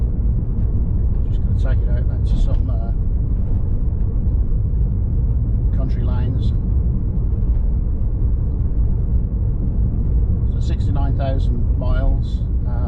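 A 2004 Alfa Romeo GTV 2.0 JTS coupe driving along country lanes, a steady low engine and road rumble heard from inside the car, with someone speaking over it at intervals.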